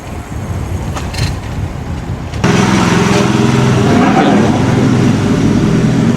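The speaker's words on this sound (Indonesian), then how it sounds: "Itu ada pembangunan rumah." At a house construction site in Japan, engine machinery starts up and runs with a steady, loud, droning rumble after a stretch of quieter outdoor noise, continuing without a break and a voice speaking faintly at the start.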